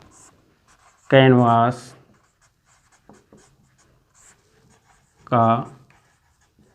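A pen scratches faintly on paper while a formula is noted during a class 10 surface area and volume math lesson, with soft writing strokes between bursts of a man's speech.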